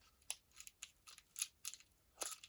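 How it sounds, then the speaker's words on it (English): Scissors snipping through packing tape on a crafting supplies package, a quick run of six or seven crisp, close cuts at an uneven rhythm, fairly quiet with no talking. "Oh, let's just cut that."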